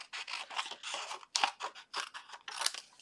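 Paper is cut out with scissors for a handmade Stampin' Up! card, a close series of quick, crisp snips in short irregular bursts with brief pauses between strokes.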